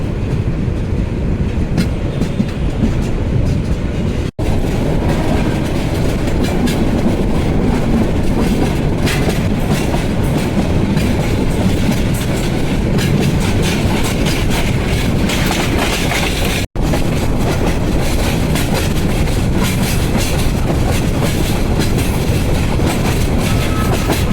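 Parabat Express, an intercity train out of Dhaka Cantonment, runs steadily along a big curve with loud, continuous rumbling and clickety-clack wheel noise throughout, heard close up with no talking.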